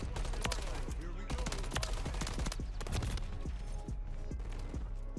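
Rapid automatic fire from an MCW rifle in Call of Duty MW3, a dense stream of loud, punchy shots with brief breaks between bursts, filling the whole stretch without speech.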